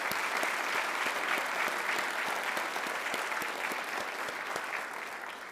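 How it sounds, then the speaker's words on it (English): An audience at a university's 125th anniversary celebration gives sustained, dense applause, steady throughout and fading slightly at the end. "Let's give them another big round of applause."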